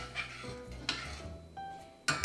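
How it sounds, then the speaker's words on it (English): A spoon stirs melomakarona syrup in a pot, giving a few quiet scrapes and soft clinks against the metal, spaced apart and close by. "I will give it just a little stir"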